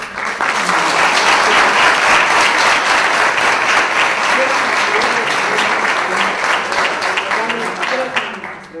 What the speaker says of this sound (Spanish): pido un aplauso más, si puede ser para los tres